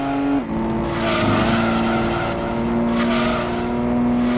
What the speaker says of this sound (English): Oh, listen to that motor. Just growling. Just sounds angry.